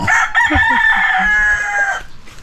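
A rooster crows once, loud and close, a long strained call that holds for a couple of seconds before breaking off, with a faint cluck at the end.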